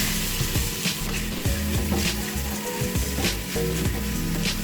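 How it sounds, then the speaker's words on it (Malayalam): Cumin seeds and chopped onion fry in hot oil, giving a continuous dense sizzle with scattered stirring scrapes and knocks, close and steady throughout, with no talk. "ജീരകമിട്ട് നമുക്ക് അരിഞ്ഞ സവാള ഇടാം."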